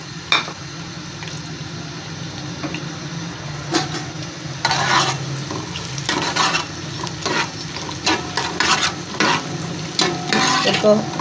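Chopped onion hitting hot oil and frying, with a steady sizzle under repeated scraping stirs of a spoon against the pan that grow busier toward the end, close and fairly loud, no speech.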